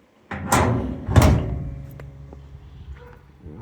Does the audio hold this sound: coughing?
no